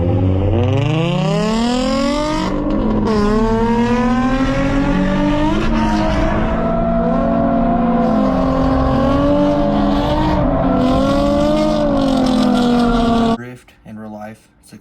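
Car drifting at a real-life drift event. The engine revs hard and holds in long rising and wavering tones near the listener, with brief lifts between pulls, and the sound cuts off abruptly at the end.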